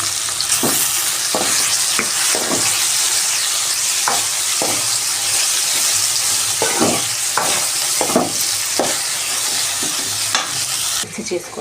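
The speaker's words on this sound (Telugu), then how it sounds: "బెండకాయ బాగా ఫ్రై అయ్యాయి." Sliced okra fries in oil in a pan, giving a constant bright sizzle broken by several scraping stirs of a spatula, close and loud with no talking.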